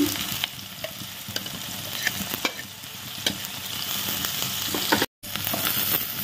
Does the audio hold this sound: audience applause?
no